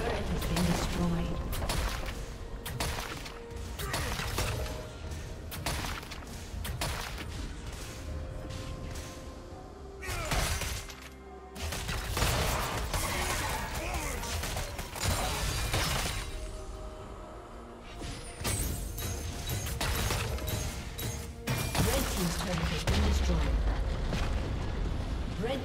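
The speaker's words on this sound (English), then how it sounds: "Blue team's turret has been destroyed." A turret crumbles in League of Legends during a top-lane Mundo versus Garen match, with dense explosive booms and shattering effects amid continuous combat noise and spoken game announcements.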